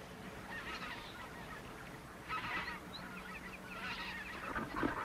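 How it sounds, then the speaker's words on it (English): White-fronted geese honking on a pond, faint and somewhat distant, with repeated bursts of overlapping nasal calls from a flock rising and falling over a low background hum. "The white-fronted geese, which rest in ponds like this"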